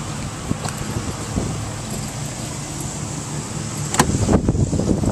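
A 2006 Range Rover SUV on a test drive in Florida: steady road and wind rush from inside the moving vehicle, with soft thumps and a louder bump toward the end.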